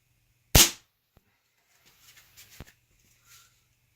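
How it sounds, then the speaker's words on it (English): A single sharp, loud shot from a Weihrauch HW97KT air rifle close to the muzzle, a crisp crack at the start, followed by faint clicks and handling noises. "And the first shot always seems to be the loudest."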